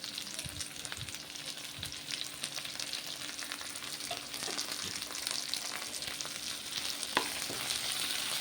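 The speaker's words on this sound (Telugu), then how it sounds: "ఇప్పుడు పచ్చిమిరపకాయల పేస్ట్ వేద్దామండి. దీంట్లో జీలకర్ర, వెల్లుల్లి, కరివేపాకు, పచ్చిమిరపకాయలు ఇవన్నీ వేసి మిక్సీ పట్టినదండి." A paste of ground green chillies, cumin, garlic and curry leaves fries in a pan for aubergine curry, giving a continuous loud sizzle and crackle with occasional stirring scrapes throughout.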